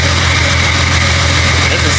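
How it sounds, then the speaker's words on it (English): A Jeep XJ engine idles with an exhaust leak, a loud, steady low rumble with a constant ticking, vibrating drone held evenly from start to finish, no speech. "Doesn't sound terrible. Sounds like it got an exhaust leak,"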